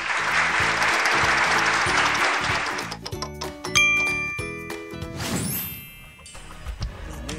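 Children clapping their hands together at a church children's gathering, a dense burst of applause that thins into scattered claps, with chimes and ringing tones sounding over it.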